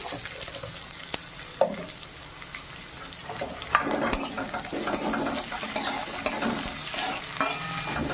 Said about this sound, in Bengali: আমি হালকা ভেজে দিচ্ছি